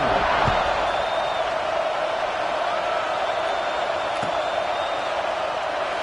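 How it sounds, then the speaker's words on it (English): A football stadium crowd at an NCAA game buzzes after a score, a dense, steady roar that is loud and continuous throughout, with faint whoops rising now and then. "this crowd is buzzing after that last score"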